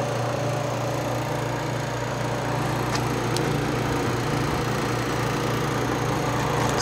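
A 115 V, quarter-horsepower refrigeration compressor rated 3.8 amps at 60 hertz and designed for R12 runs with a steady, low, even hum, constant in level throughout, with a couple of faint clicks partway through.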